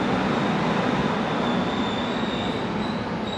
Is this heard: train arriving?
yes